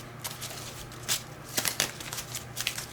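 Playing cards are shuffled by hand in a series of quick riffling bursts and soft slaps, close and fairly quiet, irregular in rhythm.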